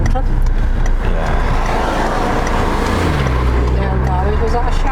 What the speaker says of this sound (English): Just let that car clear off.